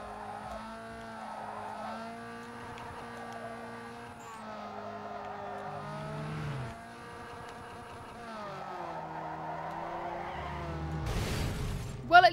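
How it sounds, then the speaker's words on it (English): A car drifting in the racing video game Need for Speed: Underground 2, with a steady engine drone and shifting revs over several seconds, tyre squeal building, and a loud burst near the end. "I need to get in here and then I need to drift while I'm in here."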